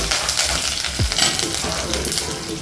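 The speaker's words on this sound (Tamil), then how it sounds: "கருவேப்பிலை போட்டு வதக்கிக்கோங்க" Curry leaves, mustard seeds and urad dal sizzle steadily in hot oil in a pan, a continuous close crackle and hiss with a brief pop, no voices.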